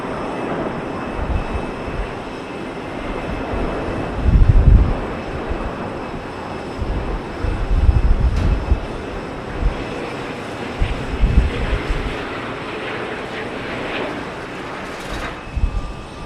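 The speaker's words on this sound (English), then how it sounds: "Virgin Atlantic, coming in from Los Angeles, LAX. Stunning A350. What a beautiful plane." A Virgin Atlantic Airbus A350 lands at Heathrow, its steady broadband jet roar washing over the scene with a few deeper rumbling swells, heard from an outdoor spot along the airport perimeter.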